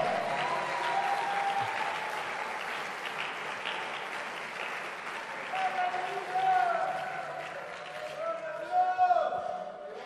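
A church congregation claps in praise during a sermon, sustained rhythmic applause from a crowd in a hall, moderately loud, with a preacher's voice talking over it and brief swells of louder clapping near the end.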